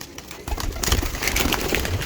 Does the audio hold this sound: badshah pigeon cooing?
yes